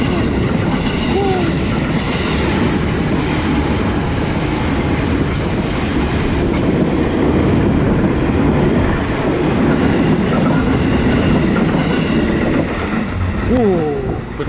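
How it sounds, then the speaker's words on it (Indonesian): A train rolls along railway tracks near Bintaro, a steady loud rumble with clattering wheels lasting throughout, and brief wheel squeals toward the end. "Saya kayaknya dengar suara kereta pemirsa."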